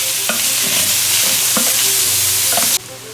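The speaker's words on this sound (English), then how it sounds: "stir it around and start browning it" Beef for pepper steak is stirred and browned in a hot pan, with a loud constant sizzle punctuated by several spatula scrapes before it abruptly drops off.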